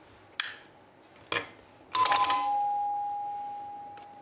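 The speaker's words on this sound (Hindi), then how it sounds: "जब भी आप इसको ऑन करोगे तभी ये बेल बजेगी" Two short clicks from a master on/off switch, then an electronic doorbell rings once with a bright chime that lingers and slowly fades; no voices.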